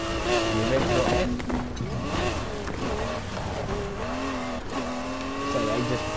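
A 2016 Lamborghini Aventador S in the racing game Need For Speed Heat, its engine droning and revving through shifting gears, loud and close, with brief tire noise mixed in.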